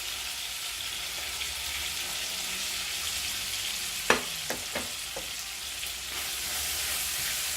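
Chicken and onion fry in a pan with a steady, close sizzle, and a few sharp stirring clatters break in around the middle.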